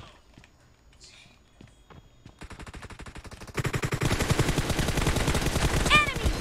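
Rapid automatic M4 rifle fire in the mobile battle royale game PUBG Mobile, a steady rattling burst that grows louder after a quieter start, with faint sounds early on.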